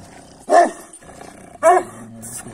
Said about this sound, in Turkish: Umut kardeşimizin köpeği